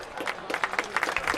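Crowd applause at a high school varsity football game at George L. King Field: scattered, fairly soft clapping from a distance, with a voice speaking over it.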